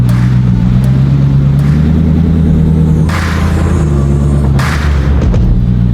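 Hypercar engine rumbles loud and close as the driver double-taps the downshift into reverse while parallel parking, with a few sharp mechanical thunks over a steady deep drone.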